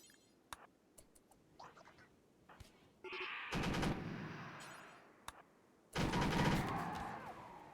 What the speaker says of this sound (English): We'll be over here shooting at them.